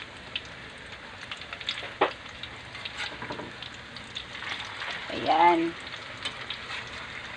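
Sayote omelette frying in a pan, a soft continuous sizzle with a few clicks of a utensil and a brief louder swell of crackling as it is flipped, with a short spoken word near the end.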